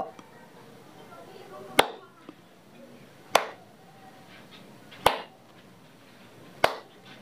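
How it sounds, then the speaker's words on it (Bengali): Four sharp, loud hand claps ring out at roughly even intervals, each a distinct crisp crack standing alone above faint room hiss, with a short quieter tap between the first two. "হাততালি দিচ্ছি, তাতেও কিন্তু জ্বলছে"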